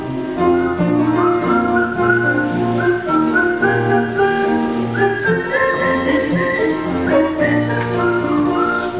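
A cheerful, melodic tune whistled on stage during a community theatre production of The King and I, steady and loud, with musical accompaniment underneath.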